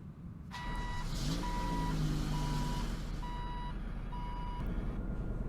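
A 2017 Sumo Boxas truck in the Roblox game Greenville starts up: a rising engine whine settles into a loud, steady idle while repeated reversing beeps sound at regular intervals, with no talking.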